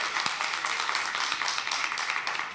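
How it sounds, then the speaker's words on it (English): Audience applause at a Solutions Summit session at UN Headquarters, a dense, steady wash of many hands clapping that fills the room throughout, moderately loud and sustained. "Let's have a round of applause for Solution Summit."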